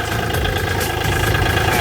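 The original engine of a used Kubota L4018 tractor idles close by, a low rumbling drone that holds even and unbroken throughout.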